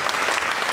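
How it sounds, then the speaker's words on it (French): Delegates at an opposition political convention applaud in a brief burst of dense, crowd-wide clapping. "applaudissons pour les amis qui viennent de toutes les provinces de la République"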